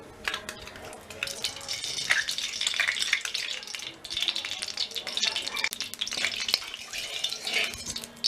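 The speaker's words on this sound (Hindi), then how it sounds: "कढ़ाई में हम 2 बड़े चम्मच घी डालेंगे" Ghee heats in a hot kadhai at the start of making veg pulao, giving a steady close sizzle with occasional spoon scrapes and clinks against the pan.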